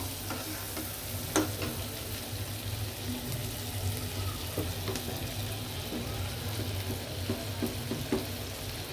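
Steady sizzling of onions frying in a pan, with occasional clicks from stirring, continuous and close.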